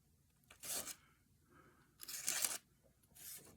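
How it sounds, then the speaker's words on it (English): An older Gerber E-Z Out Jr. pocket knife with a 420 steel blade slices through paper in a few quiet, close tearing rasps, two longer cuts and a shorter one at the end, with no voices. "I didn't expect it to cut that paper."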